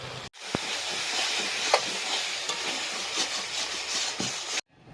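Potatoes and fish hiss in a pan of oil, a broad, steady sizzle close by with a few faint clicks, starting and stopping abruptly and without any talk.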